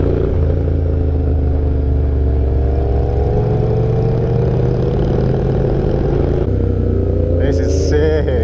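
A Yamaha R1 motorcycle engine runs in first gear at about 3,000 revs on a group ride through Melbourne, a loud, close, steady drone with a shifting pitch, mixed with wind noise and a voice talking over it.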